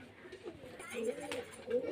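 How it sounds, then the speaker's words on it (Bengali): Pigeons at a pigeon-selling place in Beldanga make soft, low cooing calls, close by, over a brief stretch with a faint voice in the background. "ডিমে তারা আছে ওই জন্য পায়রাটাকে ঠোকাচ্ছে"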